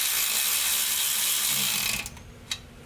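Hand ratchet cinching axle bolts on a third-generation Toyota 4Runner during an axle seal and bearing job, heard as a steady close mechanical clicking that stops abruptly, followed by a couple of sharp metallic knocks.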